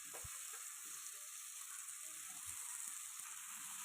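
Greens with tomato and spices fry in a hot pan, giving a steady, dense sizzle throughout with a few faint stirring knocks underneath.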